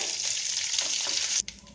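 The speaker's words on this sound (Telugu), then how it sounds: "2 ఎండుమిర్చి, కొద్దిగా కరివేపాకు కూడా వేసుకుని వేయించుకోవాలి దోరగా." Cumin, mustard seeds, dried red chillies and curry leaves fry in hot oil as a tempering for a sesame chutney, giving a steady, loud, hissing sizzle that drops away abruptly near the end.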